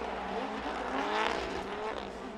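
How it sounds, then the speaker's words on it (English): At a drift event at Orange Show Speedway, a drift car's engine revs and surges in quick pulses from clutch kicks, somewhat distant and faint, heard as a continuous rising-and-falling roar. "I hear lots of clutch kicks coming from Riley's car"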